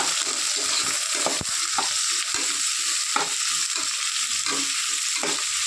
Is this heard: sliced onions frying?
yes